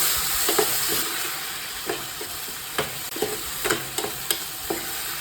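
Chopped tomatoes fry in a pan for tomato pappu, giving a steady sizzling hiss punctuated by repeated scraping clicks from stirring, close and moderately loud throughout.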